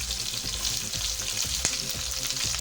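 Onions sizzle and crackle steadily in hot oil for biryani, a close, continuous frying hiss with occasional soft stirring sounds.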